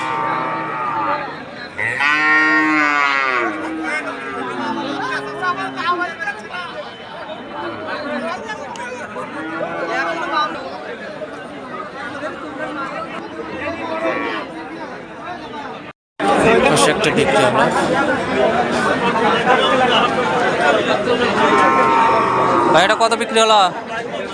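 Cattle bellow with long, deep moos at an old livestock market in Dhunat, Bogura, Bangladesh, repeating amid a constant crowd chatter and lively trading voices that grow louder and busier in the second half.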